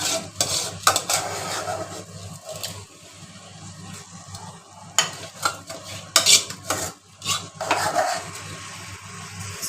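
A spoon stirs masala and rice in a metal pot for dal khichdi, with clattering scrapes and knocks against the pot in uneven bursts over a faint sizzle, no speech.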